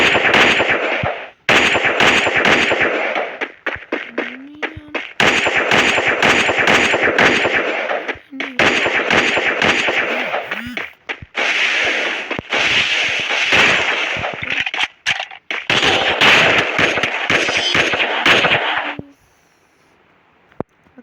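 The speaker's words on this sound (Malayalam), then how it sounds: "ഇത് സ്നൈപ്പർ ഗണ്ണാണ്." Rapid bursts of gunfire from a Free Fire mobile game match, loud sharp shots in dense repeated volleys separated by brief gaps, ending in quiet.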